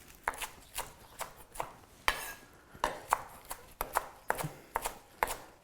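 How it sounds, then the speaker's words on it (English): Knife chopping through spinach on a board, a steady run of close, crisp cuts, about a dozen strokes in a loose rhythm, with no speech. "So just run your knife through the spinach"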